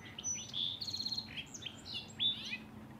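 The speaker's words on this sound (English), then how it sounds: "Them old birds are really doing their thing." Several small birds chirp and trill outdoors on a chilly, foggy day, with bright, quick tweets and short warbling phrases coming in bursts over a faint low background hum.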